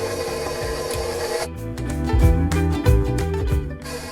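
Electric mixer beating vanilla cake batter after vegetable oil and salt are added, a steady close whirring drone with rhythmic churning pulses that swell louder toward the middle.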